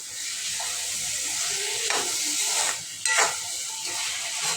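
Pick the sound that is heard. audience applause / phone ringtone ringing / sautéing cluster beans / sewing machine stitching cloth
sautéing cluster beans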